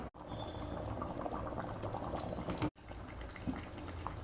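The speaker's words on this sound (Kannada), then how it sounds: "ನೋಡಿ ಇವಾಗ ಇದಕ್ಕೆ ಚೆನ್ನಾಗಿ ಕುದಿ ಬಂತು" A pot of curry masala with small steamed dumplings boils steadily, a dense continuous bubbling and popping close by, with one brief break before the bubbling resumes.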